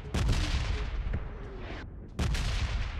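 Enemy gunfire in PUBG Mobile: loud bursts of rapid shots crackle in two volleys, broken by a brief near-silent gap, and no voices are heard.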